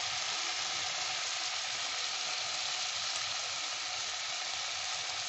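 Onions frying in a pan: a steady, even sizzle with fine crackle that holds constant throughout, close and moderately quiet, with no talk.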